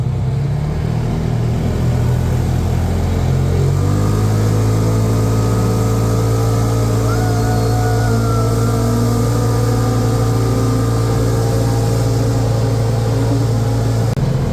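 Polaris Ranger 570 UTV engine, repaired after fire damage, held at high RPM: a loud, steady drone that climbs in pitch early on and then cruises at a constant high speed.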